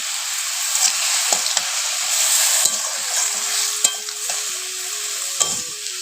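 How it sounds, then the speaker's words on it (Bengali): Winter mixed-vegetable curry with turmeric, chili and salt sizzles in a pan while being stirred, with a continuous hiss broken by repeated scraping strokes of the spoon, close and fairly loud. "এই সবজি তরকারিটা হয়ে গেলে রান্না আমার কমপ্লিট"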